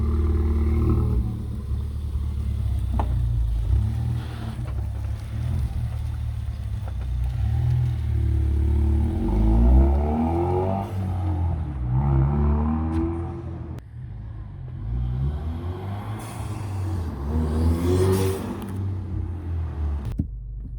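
A turbo car engine revs and rumbles, rising and falling as the vehicle accelerates past, with loud low growls and a few sharp throttle blips.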